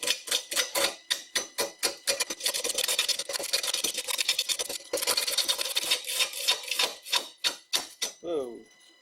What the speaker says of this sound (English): I'm running the lathe very slow because it's pretty unbalanced.